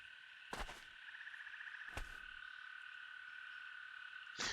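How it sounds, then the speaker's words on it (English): Frogs chirp and croak in a steady, continuous chorus beside a pond in the video game Vein, with a few sharp thumps breaking in near the start, middle and end, and no voices. "you're hearing like chirping frogs and the birdies and stuff"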